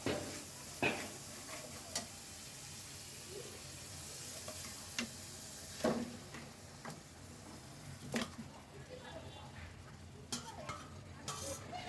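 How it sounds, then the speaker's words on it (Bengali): Goat meat fries in a spiced masala, a steady soft sizzle running beneath intermittent clinks and scrapes of a stirring utensil against the pan. "এখানে আমার খাসির মাংসটা ভালো করে আমি কষিয়ে নিচ্ছি।"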